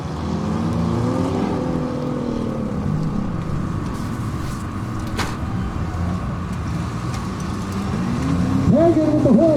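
Demolition derby cars race on a snowy winter arena track, engines roaring together in a loud continuous rumble that swells toward the end, with rising whines of revving motors near the close and an announcer talking over it.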